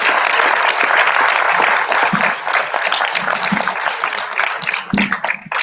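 An audience at a colloquium gives loud, sustained applause, a dense close wash of many hands clapping steadily throughout with a few sharper claps near the end.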